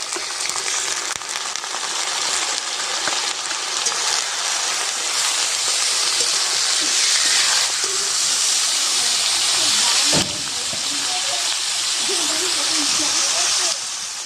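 Meat hits a hot pan in a clay-coated cooking setup, setting off a steady, loud hissing sizzle that holds for the whole stretch, with a brief clatter partway through.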